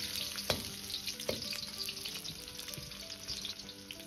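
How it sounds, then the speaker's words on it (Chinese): Garlic, ginger and scallion stir-fried with star anise in a hot wok, a steady oily sizzle with a couple of sharp clanks of the spatula near the start, close and continuous without any talking. "接着下入八角，先炸出香味，接着放入拍蒜炒至微黄，接着再下入切好的姜葱"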